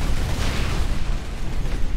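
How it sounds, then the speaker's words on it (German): Melta gun shots from the Warhammer 40k Space Marine video game, a dense run of loud, roaring blasts and booming bursts filling the whole two seconds with no talking. "Vier Melter-Schüsse hat er jetzt schon gekriegt"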